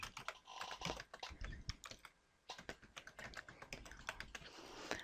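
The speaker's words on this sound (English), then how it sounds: "You're just going to type in the password for your account." Password being typed on a computer keyboard: a quick, close run of light key clicks in irregular bursts, with a brief pause midway and no talk.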